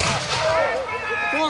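American Revolution reenactors fire a musket volley in an open field, giving a loud, rough blast with ragged echoes under shouted voices.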